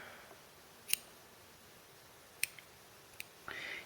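Scissors snip crochet yarn for an elephant appliqué, giving three or four sharp, close clicks spaced about a second apart, alone in a quiet room.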